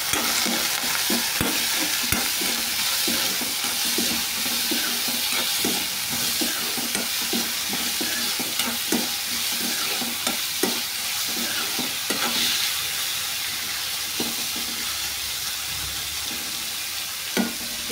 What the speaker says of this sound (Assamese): মই এপিনে আলুখিনি ভাজি হৈ থাকক